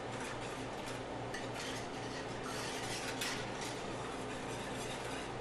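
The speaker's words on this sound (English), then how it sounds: "I'm going to stir it up with my whisk to start with, since it's got that powder in there" A whisk stirs apple pie filling with powder mixed in, giving a steady, continuous scraping and swishing against the bowl, close and fairly quiet, with no talking.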